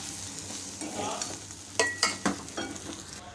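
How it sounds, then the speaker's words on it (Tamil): A spoon stirs green beans stir-fry with spice powder in a pan, soft scraping strokes over a faint sizzle, with a few louder clinks against the pan near the end. "இப்போ இந்த பொடியோடு சேர்த்து ஜஸ்ட் ஒரு டூ மினிட்ஸ் சேர்த்து கலந்து விட்டுக்கலாம்"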